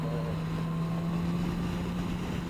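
Suzuki GSX-S1000 motorcycle engine from 2017 holding a steady loud drone with a strong low hum, under heavy wind rush from riding.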